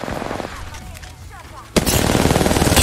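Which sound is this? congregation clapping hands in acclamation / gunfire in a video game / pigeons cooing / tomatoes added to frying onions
gunfire in a video game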